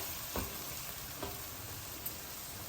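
Green chillies fry in a country-chicken curry, giving a faint, steady sizzle with a few soft clicks over low kitchen hiss.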